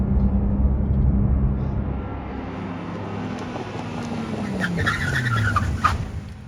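A race car pulling into the pits, with a loud engine roar that eases off and a tire skid, then a brief squeal near the end. No one talks.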